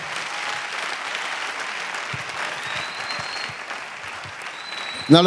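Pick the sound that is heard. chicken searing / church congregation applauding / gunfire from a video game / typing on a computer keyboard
church congregation applauding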